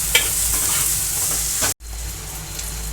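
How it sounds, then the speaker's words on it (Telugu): A spoonful of ginger paste fries in a pan for a tomato onion egg drop curry while being stirred, a loud constant sizzle with scraping bursts, briefly cutting out before resuming. "ఒక స్పూన్ అల్లం పేస్ట్ వేసుకోవాలి. ఈ పచ్చివాసన పోయే వరకు కాస్త ఇలా కలుపుకుంటూ ఉండాలి."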